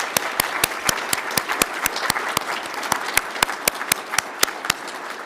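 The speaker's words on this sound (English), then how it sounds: "Let's give everyone a round of applause." Audience applause at a dental hygiene graduation pinning ceremony, with steady, dense clapping from a gathered crowd that holds for several seconds at an even level, with no talk over it.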